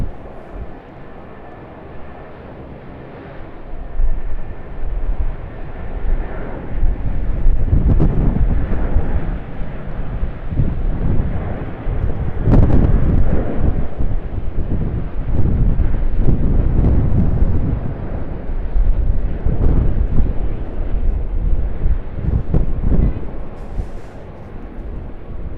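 A Jetstar airliner takes off from Sydney Airport, its engine roar rising from quiet into a loud, rough, sustained thunder with gusty wind buffeting, then easing slightly toward the end, with no one speaking.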